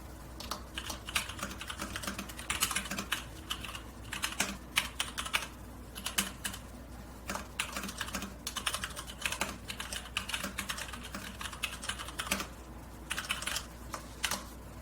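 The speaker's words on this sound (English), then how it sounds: "here's the first typing test with the Varmilo keyboard" Continuous fast typing on a Varmilo VA87M mechanical keyboard, a Summit White model, produces dense, close keystroke clacks in an irregular rhythm with brief pauses, heard alone without talk.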